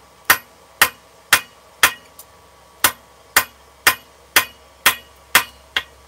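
Hammer blows ring out on hot metal against an anvil while forging grill tools in a smithy, eleven sharp, clanging strikes at a steady rhythm with a faint tap between, close and loud with no talk.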